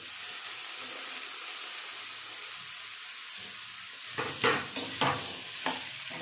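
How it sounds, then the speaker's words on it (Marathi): Chopped onion and green tomatoes sautéing in a pan over medium heat, a continuous soft sizzle with several sharper scraping stirs of a spoon toward the end. "टोमॅटो पण छान परतून घेते मी।"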